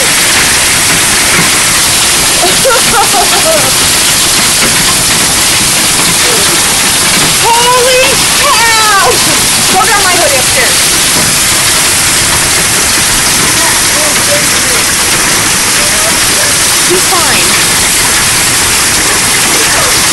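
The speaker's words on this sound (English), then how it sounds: "It's been hailing for 3 minutes now." A steady, dense roar of hail pelting surfaces and a downspout outdoors in Norfolk, Nebraska, with excited voices talking over it now and then.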